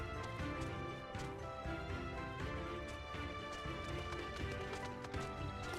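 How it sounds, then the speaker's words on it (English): A horse-like mount in Final Fantasy XIV climbs a flight of stairs, giving a fast, steady patter of hoof clops over game music, fairly loud and continuous throughout. "like riding a horse up the stairs is kind of a lot"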